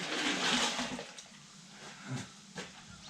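Whey is poured out in a steady, splashing liquid stream on a winter village farm, with a few louder sloshes and knocks toward the end.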